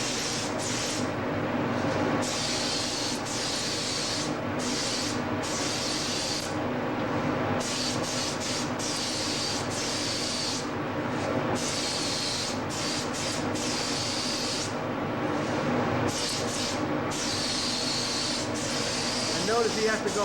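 Spray gun hissing steadily as it coats a prosthetic foot with Endofoam skin-tone texture, in continuous bursts with brief pauses, close and fairly loud.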